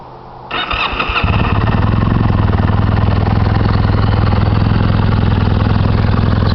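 A motorcycle fitted with a Motad full stainless steel exhaust system cranks briefly and fires up, then settles into a loud, steady, close idle with a rapid even pulse throughout.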